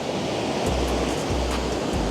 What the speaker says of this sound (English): He's right there, right where the waves are breaking.